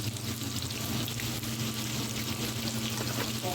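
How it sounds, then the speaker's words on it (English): New York strip steak fries in a pan with a continuous close, steady sizzle and crackle, no talk over it. "I'm starting my day by cooking some New York strip steak"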